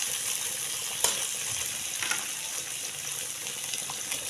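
Fried pork pieces drop into a hot pan for pork bistek, setting off a steady, bright sizzle with a few soft clinks and splashes, close and loud with no talking.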